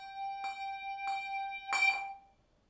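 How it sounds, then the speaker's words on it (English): A handbell sounds three times, the first two strokes ringing on clearly and the third struck with a ring touch, a brighter, louder strike that then fades out. "if I play 4 quarter notes with this bell and the fourth one is a ring touch"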